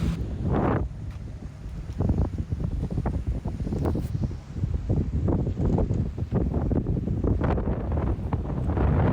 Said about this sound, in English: the wind is just becoming a little bit too loud